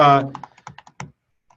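Keys tapped on a computer keyboard while notes are taken during a steering committee meeting, a few light irregular clicks right after a voice trails off, then quiet.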